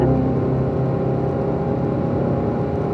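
A car held at full throttle gives a loud, steady engine drone with a strong low hum and little change in pitch, heard close and alone without talk.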